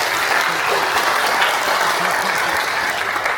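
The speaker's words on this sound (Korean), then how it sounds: "해결하실 수 있도록 큰 박수 부탁드리겠습니다" A town hall audience of local residents in Incheon applauds the mayor-elect, a steady, dense wash of clapping that holds at an even loudness throughout, with no talk over it.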